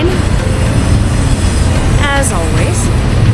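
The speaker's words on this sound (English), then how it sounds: "Waiting on a train" A train passes on a railway near a waterway bridge, with a loud continuous rumble, clattering wheels and brief high metallic squeals, close by.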